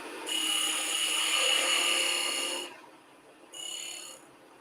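Sandpaper rubs against a spinning wooden piece on a woodturning lathe, a steady high-pitched whirring hiss for a couple of seconds, a brief lull, then a shorter second pass, close and alone.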